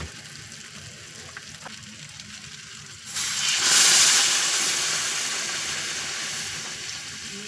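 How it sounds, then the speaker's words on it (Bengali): Hot water poured from the side into a pot of browned, fried-down chicken curry, a sudden loud sizzling hiss that flares up and then settles into a steady bubbling steam. "এবার এই জলটা দিয়ে দেব।"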